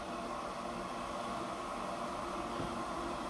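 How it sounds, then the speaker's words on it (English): A domestic washing machine runs steadily in the background, a constant broadband mechanical hum and whir with no breaks. "Sorry about the noise in the background, this is the washing machine."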